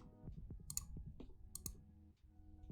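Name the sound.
mechanical keyboard spacebar switch clicking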